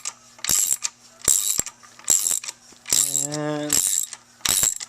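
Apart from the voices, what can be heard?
ratchet slowly cranking bolt out, Ferrari 348 engine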